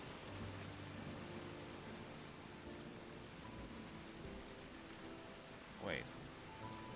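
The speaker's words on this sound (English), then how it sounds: "Unless this grew because it's raining. Let's turn the rain off and see if that tree disappears." Rain falls steadily in the game Stranger of Paradise: Final Fantasy Origin, a soft continuous hiss beneath faint game sounds, with a brief sharper sweep near the end.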